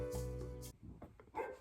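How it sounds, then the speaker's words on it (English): A pet dog gives a couple of quick, loud barks close by, then a few softer yips and whimpers trail off within about a second and a half. "Okay, that's my dog."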